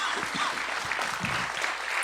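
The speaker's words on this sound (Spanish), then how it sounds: "¿Cuántos dan ese aplauso al Señor?" Church congregation applauding during a Spanish-language worship service, a dense steady wash of many hands clapping throughout, fairly loud and continuous.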